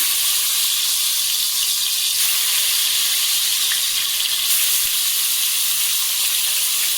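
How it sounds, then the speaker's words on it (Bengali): Pieces of tilapia fish fry in hot oil in a wok, producing a steady, fairly loud sizzling hiss that holds constant with only slight flickers and no talking. "তেলটা গরমও হয়ে গেছে তো এবার আমি মাছ ছেড়ে দেবো কড়াইতে"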